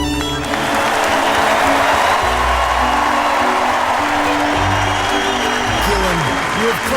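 A television studio audience applauding steadily at a football talk show, with a voice speaking over the clapping.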